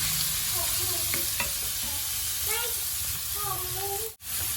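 Pork for northern Thai larb is stirred and fried in a pan, giving a continuous loud sizzle with scraping stir strokes, while a voice talks intermittently over it.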